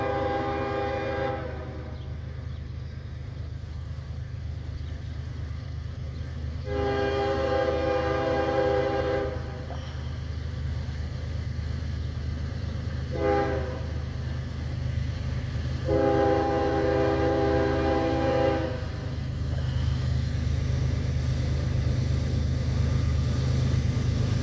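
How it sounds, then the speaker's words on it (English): Northbound Norfolk Southern mixed manifest freight train led by three locomotives rumbling steadily past a grade crossing on Millsdale Avenue, with the horn sounding in four loud sustained blasts over the continuous low roar of engines and cars. "Norfolk Southern. Three locos."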